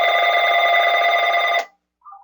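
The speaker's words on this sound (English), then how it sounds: "the darn phone went off" A telephone rings loud and steady for about a second and a half, then cuts off abruptly into silence before a faint sound returns at the end.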